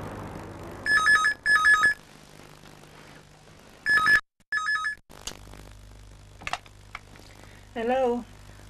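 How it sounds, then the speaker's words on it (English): Repeated electronic telephone ringing in paired bursts, a 1993 British phone at around 3:30 in the morning, the rings loud and clear against a quiet room with a brief click and faint noises between. "Julia, what are you doing ringing at this time in the morning?"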